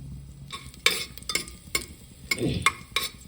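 Cumin seeds and garlic dropped into hot oil, giving a close, steady sizzle with several sharp stirring scrapes and clacks of a spoon against the pan.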